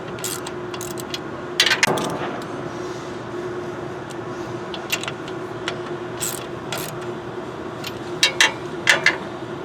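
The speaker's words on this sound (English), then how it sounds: "start to tighten this bolt, and just watch that it doesn't over tighten the belt as you get that bolt tight" A bolt being tightened on the stackerhead belt of a PS160, giving scattered metallic ratcheting clicks and rubbing scrapes over a steady mechanical hum, with several brief bursts clustered near the end.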